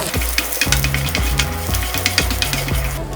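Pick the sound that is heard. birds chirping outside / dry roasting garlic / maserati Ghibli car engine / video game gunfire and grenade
dry roasting garlic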